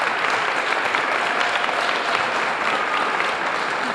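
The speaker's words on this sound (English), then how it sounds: "If we can give everybody a round of applause." Sustained applause from an audience at a district-wide school art show, dense and steady from start to finish with no talking over it.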